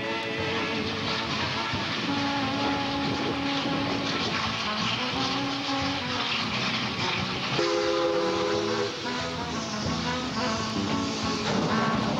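A steam train on the Alberta Prairie line rumbles and clatters continuously, loud and close, with drawn-out whistle tones rising over the rolling noise of the cars.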